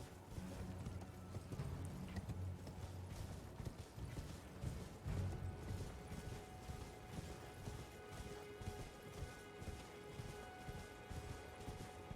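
Horse hooves clip-clop in the video game Elden Ring, a steady rhythmic trot under a low ambient music bed, fairly quiet and continuous.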